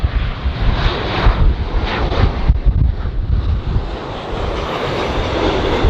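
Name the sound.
Delta Airlines Boeing 737-800 landing at LAX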